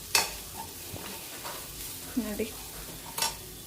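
Vegetables and masala frying together for vegetable fried rice, without vinegar, stirred in a pan: a soft continuous sizzle broken by sharp spatula scrapes and clinks, with a brief spoken word.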